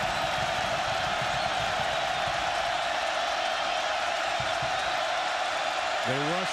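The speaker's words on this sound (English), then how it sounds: "The crowd is into it." At an Oregon versus California college football game, a stadium crowd roars steadily with scattered whoops, and a commentator's voice comes in briefly at the end.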